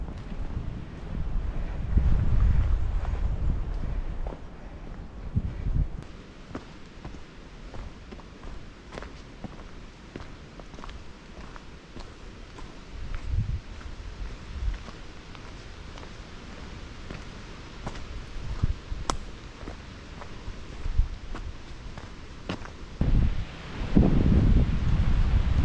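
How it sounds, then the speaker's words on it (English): Wind gusts across a foggy Appalachian Trail mountain ridge during a hike, rumbling and buffeting the microphone in uneven bursts, with rustling and occasional footsteps in between. "Really windy on these ridges"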